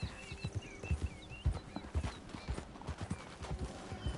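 Horse hooves clip-clop at a walking pace in Red Dead Redemption 2, a steady four-beat rhythm of close, moderately loud thuds on the ground, with an occasional soft whinny and chirping birds behind.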